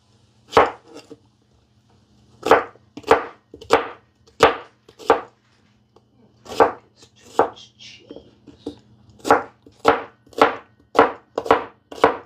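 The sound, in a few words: knife chopping an onion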